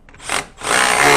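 A power driver tightens a 13mm bolt on a 2015 Jeep Cherokee during a cooling fan repair, with a short loud whir followed by a longer sustained spin, close up and without speech.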